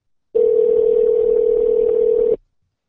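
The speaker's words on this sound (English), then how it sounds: "I hear something ringing." A steady telephone tone plays on a call to a store's main number, one continuous unbroken note lasting about two seconds at loud level, then abrupt silence.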